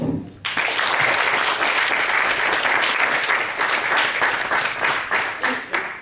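Sustained applause from an audience at a pilot-episode premiere screening, thanking the film crew; loud, dense clapping starts abruptly and continues steadily throughout, with no talk over it.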